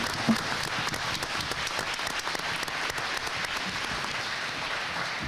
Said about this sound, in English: Let's have a round of applause for all of these great candidates.